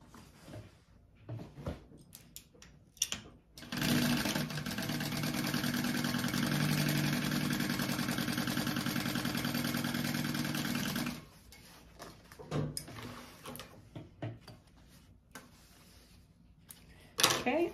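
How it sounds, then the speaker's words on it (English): A sewing machine joins two fabric pieces along one edge while making a bag, running in one steady, loud burst of about seven seconds, with quieter handling noises and movement before and after. "I'm going to sew these two pieces together, this edge right here"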